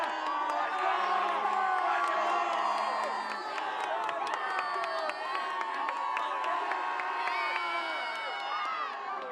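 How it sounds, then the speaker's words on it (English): Two to three hundred high school football fans, out in bad weather at a Scranton Prep vs Valley View game, cheer in a loud, sustained roar with scattered whoops and shouts throughout. "There's got to be 200, maybe even 300 people out here braving the elements, doing an unbelievable job cheering on their team"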